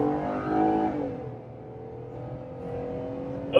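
A supercharged car drives past, its engine note loud and tonal at first, then fading into a lower steady hum as it moves away, with a sharp brief knock at the very end.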